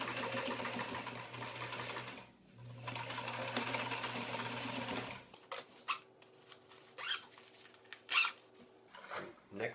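A sewing machine stitches a zipper onto a DIY rolltop backpack, running in steady bursts with brief pauses, then giving way to short stop-start stitching and handling noises up close.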